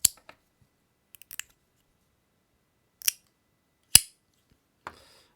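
Mechanical keyboard switches clacking in a handful of sharp, isolated clicks spread out over a few seconds, close and crisp against silence.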